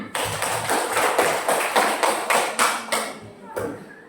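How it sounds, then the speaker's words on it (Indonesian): Hands clap in an Indonesian classroom, a series of separate, fairly loud claps in an uneven rhythm, sounding like a few people applauding rather than a full room. "kita berikan tepuk tangan"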